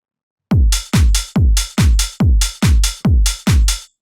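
Basic electronic drum loop of a punchy kick, a shifted clap and a simple hi-hat, eight tight evenly spaced hits repeating after a short silence, loud and dry with nothing else over it.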